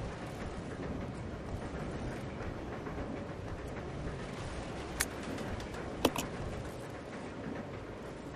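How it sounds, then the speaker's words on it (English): A moving train in the Resident Evil game rumbles steadily with a continuous rolling wash and faint rhythmic rail clatter, broken by a couple of sharp metallic clicks and knocks near the end, no voices. "The train will either derail or crash."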